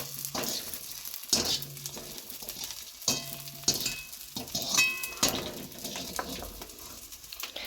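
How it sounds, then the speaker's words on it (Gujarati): Quiet sizzling of edible gum frying in ghee, broken by repeated scraping stirs and metal utensil clinks against the pan. "આપણો ગુંદર તળાઈને રેડી થઈ ગયો છે"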